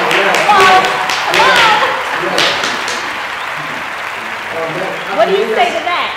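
Scattered audience clapping at a talk show, a burst of claps mixed with voices and thuds, fading under ongoing talk before a few more taps near the end.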